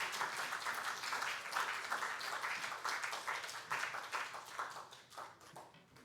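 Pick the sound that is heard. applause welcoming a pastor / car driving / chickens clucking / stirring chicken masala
applause welcoming a pastor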